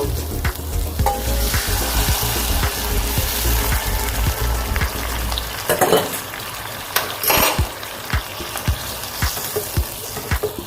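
Milk poured into thickened paneer gravy in a hot pan, sizzling steadily with frequent scraping stir strokes and clinks of the spoon against the pan, close and fairly loud, with no talking.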